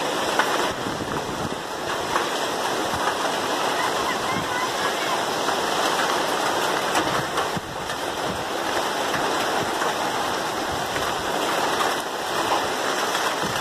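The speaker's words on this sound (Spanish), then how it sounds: "Cae la lluvia." Steady rain falls at sunset over the hillside neighborhood of Siloé in Cali, a continuous dense hiss and patter at close range that holds evenly throughout, with faint background sounds beneath.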